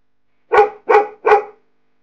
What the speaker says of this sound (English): Right again, it's a dog.